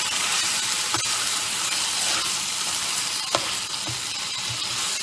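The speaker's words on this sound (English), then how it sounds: "And then we're going to take it and we're going to mix it around." Oxtail ragu sizzles steadily in a pan while being stirred, a continuous close frying hiss with occasional soft spoon scrapes and clicks, no talking.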